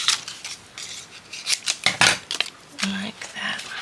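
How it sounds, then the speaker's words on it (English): Large scissors snip through paper in a few quick close cuts with small rustles between, the crisp blade strokes clustered in short bursts. "I need to just snip a piece of this."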